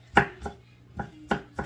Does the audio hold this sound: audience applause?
no